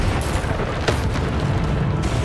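A Bombarda explosion spell in Hogwarts Legacy lands as a single booming blast under a low, rumbling background.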